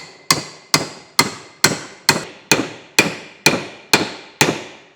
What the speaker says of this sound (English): This is a copper hammer, so it's softer than the metal that we're driving on.